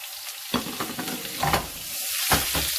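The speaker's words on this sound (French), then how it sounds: "on attend que le beurre fonde bien. Alors toujours à grand feu" Butter melting into about three spoonfuls of hot oil in a pan over high heat, a steady crackling sizzle with a few stirring scrapes and bursts of spitting, up close and without speech.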